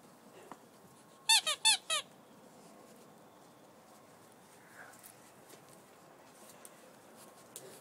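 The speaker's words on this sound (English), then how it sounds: "I have her green squeaky toy right here that I've been squeaking every now and then." A green squeaky toy is squeezed for a raccoon, four quick high squeaks in a tight burst early on, then quiet rustling in the background.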